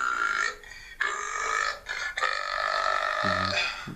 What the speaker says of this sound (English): I've just got so many different burping talents.